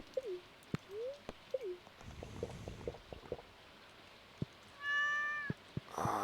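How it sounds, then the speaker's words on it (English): A cat in Stardew Valley meows three times in quick succession, clear synthetic mews, followed by soft game clicks, a brief splash and a short rising chime. "Cat."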